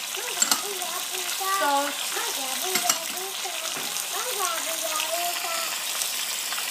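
Whole spices for chicken biryani fry in hot oil: green and black cardamom, cloves and black pepper crackle in a steady close sizzle while someone talks over it.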